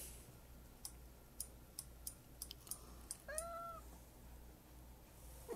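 A cat gives a single short meow, faint and close, amid low background hiss and scattered light clicks.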